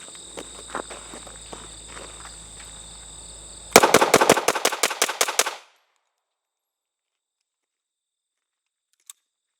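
Springfield XDm striker-fired handgun fired in a rapid string of about ten loud, evenly spaced shots after a steady background hum, then silence apart from one faint tick near the end.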